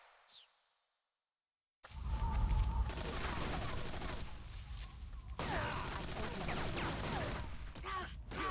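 Dense bursts of gunfire and whooshing effects from Metal Gear Solid 3 in a boss fight where bullets are deflected, a sustained loud barrage after a brief swish and a short silence.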